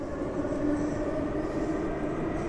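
A train speeding up on a downhill stretch in a train-driving simulation game, giving a steady, continuous rumble and rolling hum at constant loudness throughout, with no talking.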